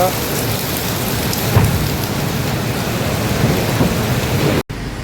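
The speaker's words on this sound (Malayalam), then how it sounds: "പുറത്ത് നല്ല മഴ തകൃതി അത് പെയ്തുകൊണ്ടിരിക്കുകയാണ്" Heavy rain pours steadily outside during a truck stop, a dense continuous hiss with a few low rumbles of thunder; the roar stays loud throughout, with a brief dropout near the end.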